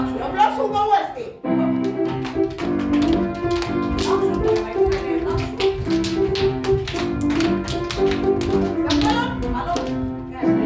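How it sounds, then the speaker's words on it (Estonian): Children clapping in rhythm while jumping during an Estonian Independence Day celebration, with repeated sharp claps over music and an adult voice talking throughout. "ja plaksuga uuesti."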